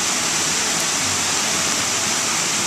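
A small brook beside a yard, flooded by Hurricane Irene, roars past as a raging torrent: a loud, unbroken rush of white water, heard close and steady with no voices.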